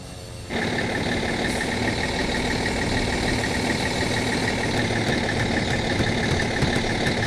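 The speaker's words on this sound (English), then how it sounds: "This is going to be our fuel truck." In the airport management game Airport CEO, a fuel truck's engine starts abruptly and then idles steadily at a loud, even drone, with a faint repeating beep-like tone running throughout.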